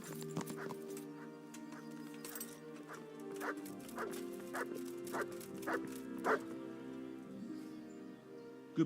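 Dog barking in the medieval role-playing game Kingdom Come: Deliverance: a series of sharp, evenly spaced barks, fairly close and loud, over a steady tonal game background with no talk.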